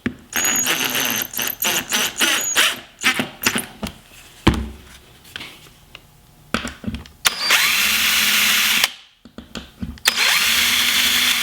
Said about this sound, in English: then I'll pre-drill the other 2 holes.